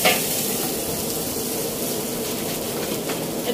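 Onion and egg sizzle steadily in hot oil, producing a dense, even frying hiss at close range with no pauses and only faint background noise.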